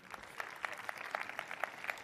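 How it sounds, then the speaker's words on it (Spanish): Sparse, faint clapping from a small conference audience, individual hand claps audible in an uneven patter for about two seconds. "Un aplauso para Ignacio."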